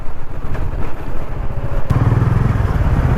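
Bajaj Dominar 400 motorcycle riding along a road, with a steady, close engine drone and rushing wind throughout that grows louder and fuller partway through.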